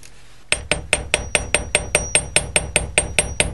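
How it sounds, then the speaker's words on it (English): A chasing hammer strikes a wire loop from a bead bracelet resting on a steel bench block, giving about fifteen sharp, ringing metallic taps in a steady, quick rhythm, close and clear. "I'm just going to hang my bracelet off the end, so I'm only hammering that loop of wire."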